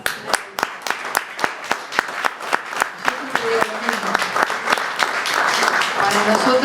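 An audience at a literary talk applauds, a few sharp claps at first that build into dense, steady clapping from a crowd, with faint voices underneath toward the end.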